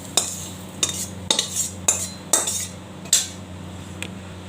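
Peanuts with onion and chilli ground on a stone slab, a run of about six sharp scraping strokes at a steady, slightly uneven rhythm, close and loud with short pauses between.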